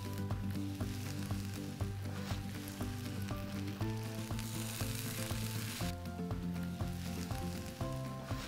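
Spinach and sautéed vegetables sizzle and crackle steadily in a hot pan, a loud, continuous frying hiss with occasional stirring clatter and no talking.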